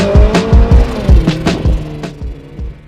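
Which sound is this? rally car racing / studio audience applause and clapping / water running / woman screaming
rally car racing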